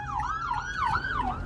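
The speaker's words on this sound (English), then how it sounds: "an ambulance just went by" An ambulance siren wails in a continuous rising and falling sweep, about four cycles, heard through a window or from a street nearby at moderate loudness over a low traffic rumble.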